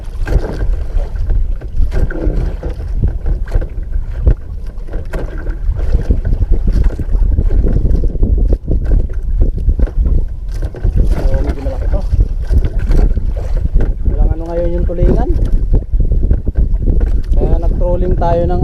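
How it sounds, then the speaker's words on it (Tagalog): Wind roars steadily across a small fishing boat at sea, a constant loud rush with low rumbling, while voices talk intermittently over it. "Hangin."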